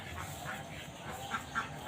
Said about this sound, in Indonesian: dan juga ada bebek ya